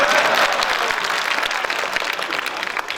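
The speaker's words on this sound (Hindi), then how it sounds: "तालियां तो उतना नहीं आया जितना मैं सोचा" An audience at an educational institution event claps steadily, a dense, fairly loud round of applause that gradually thins toward the end.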